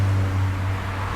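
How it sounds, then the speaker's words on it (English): Road traffic passes close by at the roadside, a loud, continuous low rumble and wash of engine and tyre noise with a steady hum and no voices. "there is lots of traffic"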